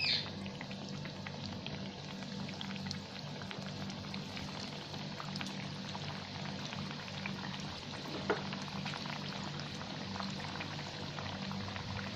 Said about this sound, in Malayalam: മീഡിയം ഫ്ലെയിമിൽ വെച്ചതിന് ശേഷം നമുക്ക് ഫ്രൈ ചെയ്തെടുക്കാം